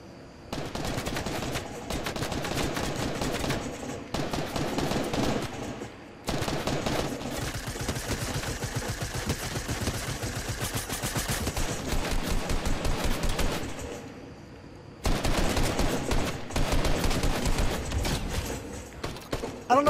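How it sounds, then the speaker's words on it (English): Rapid bursts of automatic gunfire from the video game Fortnite fill most of the stretch in long sustained volleys, broken by brief pauses and resuming loudly near the end. "why are you shooting at me when you're that far away?"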